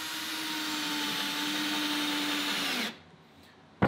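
Motorized leather sewing machine running on a table, a steady loud mechanical whine and hum that winds down and stops near the end, followed by a quiet pause and a sudden knock.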